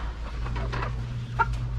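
Roosters and hens on a small farm give a few short clucks and calls over a low steady hum, fairly close and without talk.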